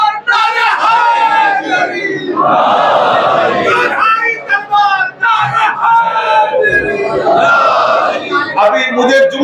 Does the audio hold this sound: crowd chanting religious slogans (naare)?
yes